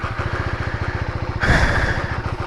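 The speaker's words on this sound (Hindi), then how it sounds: "देखो मैं जैसे बाइक स्टार्ट करता हूँ ना" A KTM 390 Adventure X motorcycle engine chugs in a steady idle, then surges louder for a moment before settling back to its rhythmic putter.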